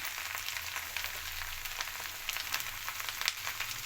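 Food frying in a pan with turmeric just added, a steady close sizzle with scattered crackles and pops, no voices.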